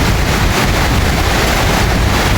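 Hailstorm driven by strong wind, a dense, steady roar of wind and pelting ice that stays loud and unbroken throughout, with no voices.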